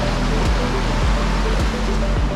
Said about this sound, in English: We can see some of the rapids coming down.